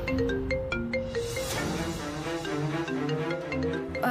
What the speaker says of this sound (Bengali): ফোনটা ধরে নিন না।